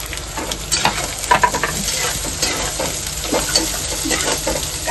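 Onions fry in hot oil with curry leaves, garlic and chillies, a close, steady sizzle broken by scraping stirs and bursts of crackling, with no voices.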